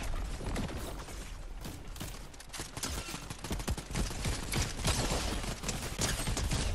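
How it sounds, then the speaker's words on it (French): Dense gunfire from the video game Fortnite, with rapid overlapping shots and mechanical clatter forming a continuous loud barrage throughout. "ça nous tire de derrière"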